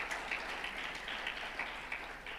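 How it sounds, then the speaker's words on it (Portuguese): A congregation applauds in church, a quiet, steady patter of many hands clapping together with a few louder bursts, heard from a distance and without any speech. "Você pode aplaudir o Senhor por isso?"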